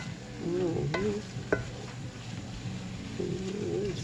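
Taco meat stirred in a frying pan, with a soft steady sizzle and a few sharp scrapes of the utensil against the pan, close up.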